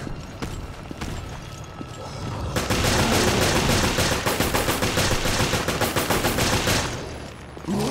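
Gunfire in the survival horror game Resident Evil: Revelations, with scattered shots at first, then a loud, rapid stretch of repeated blasts through the middle before it thins out at the close.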